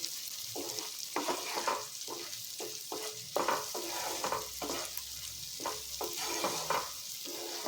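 Garlic and red chilli chutney sizzles in a pan while a spoon stirs and scrapes in a quick, rhythmic pattern, each stroke distinct over the soft, steady frying.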